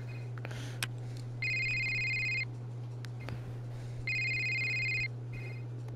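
Phone ringing in the Blair Witch horror video game: two distinct bursts of an electronic ringtone, each about a second long, separated by a quiet gap, over a constant low background hum.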